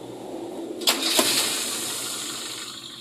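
A Toyota Kijang Super engine with a strange rattling noise cranks and catches, then settles into a steady running hum, moderately loud and fairly close.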